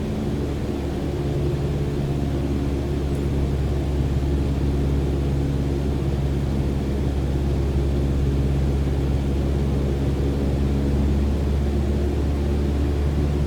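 Microsoft Flight Simulator airplane engine as the throttle is eased back during a VFR solo training departure: a steady, continuous drone with a low rumble and hum, even in level throughout, with no voices.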